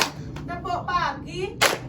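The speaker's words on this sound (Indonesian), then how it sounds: "Kalau Ibu bilang tepuk pagi, 1 kali tepuk." A teacher speaks to a class, then a single sharp clap from the pupils rings out near the end.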